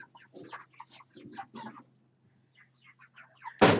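Chickens cluck in a coop on a cold, windless day, with short irregular bursts of clucking close by and a brief pause midway, ending in a sudden loud rustle or thump.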